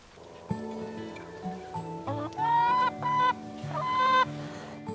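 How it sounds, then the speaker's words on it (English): Several chickens cluck on a small rural farm in San Diego, giving a run of close, fairly loud bursts with short pauses between them. "We have 4 chickens,"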